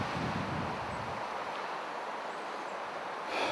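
Strong gusting wind at 30 to 50 mph during a New Jersey shotgun deer hunt roars steadily as broadband rushing noise, buffeting the microphone up close with brief swells and no voices.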